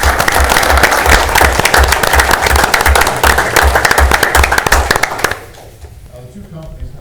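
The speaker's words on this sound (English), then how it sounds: "so I think they deserve a round of applause." Council meeting audience applauding, a dense, loud burst of clapping from a roomful of people lasting about five seconds, then dropping away to quiet room sound with a voice starting to speak.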